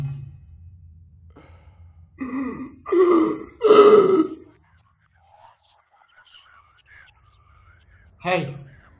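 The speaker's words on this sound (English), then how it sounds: "Stop burping in my face." Several loud, close burps come in quick succession in the horror video game Penumbra Overture, followed by quiet and one more short burp.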